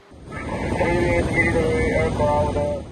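A Philippine coast guard aircraft drones steadily overhead above the South China Sea, its engine hum holding even and fairly loud for the full few seconds, with muffled radio-like voices faintly underneath.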